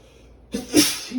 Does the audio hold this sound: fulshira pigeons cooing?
no